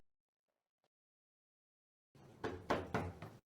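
Three firm knocks on a door, close and loud, coming after a stretch of near silence.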